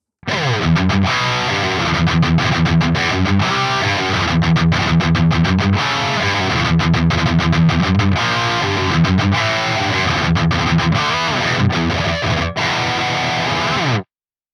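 An electric guitar plays a driven, chugging rhythm part through the overdrive channel of a Soldano SLO-100 amp, dialed brighter and more articulate, loud and steady with short rhythmic stops throughout.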